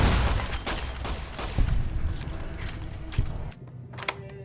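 Gunfire hits geckos in Fallout: New Vegas Honest Hearts, a rapid run of sharp shots with mechanical clicks and clatter, loud and close, then a brief quieter stretch broken by a final couple of reports.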